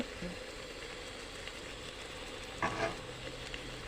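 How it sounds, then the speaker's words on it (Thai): Pork belly fries in a pan while a Thai curry is made, giving a soft, continuous crackling sizzle with a brief louder spatter near the end, faint and close. "ใส่สามชั้นนะ รอมันแตกๆกัน"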